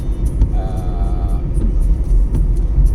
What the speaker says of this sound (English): Still driving.